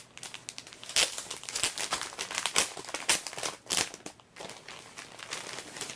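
Crinkly packaging around a Pikachu item rustles and tears in close, irregular bursts of crumpling, easing briefly before resuming, with no voices.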